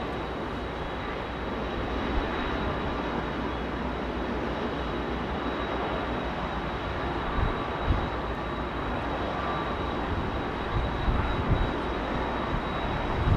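Steady, broad roar of a jet airliner's engines at London Heathrow Airport, sustained and fairly distant, with no talking over it.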